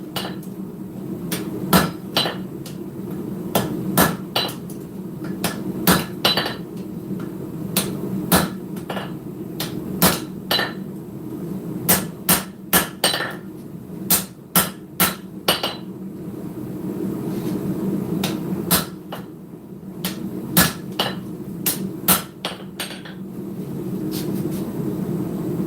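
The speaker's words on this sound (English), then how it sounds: "Hammering on the other side." A hammer strikes steel over and over while a short spear is hand-forged at an anvil. Sharp ringing blows come in irregular bursts over a steady low hum, close and loud, with no talk.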